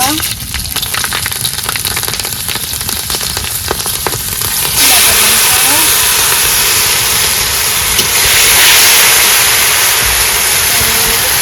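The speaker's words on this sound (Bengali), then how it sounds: "তেল গরম হয়ে গেল জিরে ফোটন দিয়ে দিলাম" Cumin and chili hit hot oil in a pan, starting with crackling spits and then settling into a loud, steady sizzle that swells near the end, heard up close.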